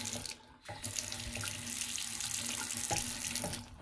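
A bathroom sink tap runs water in a continuous, loud rushing stream close by, briefly dipping near the start, then flowing steadily into the basin with no voices over it.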